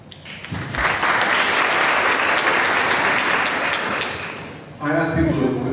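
An audience at a 2006 Ypsilanti mayoral candidates debate breaks into loud, sustained applause that swells, holds and then fades, with a voice starting to speak over the end.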